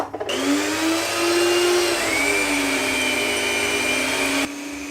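Electric mixer whirring through chocolate cake batter with coffee and vanilla, a steady loud motor whine with a slight pitch rise, close and alone, stopping abruptly at the end.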